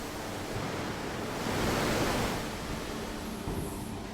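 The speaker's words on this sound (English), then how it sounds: "In order to cleanse the surface, water is sprayed at high pressure," High-pressure water spray at 160 bar descaling hot steel slab before roughing in a stainless steel hot rolling mill: a continuous loud, broadband roaring hiss that swells briefly in the middle, with no speech.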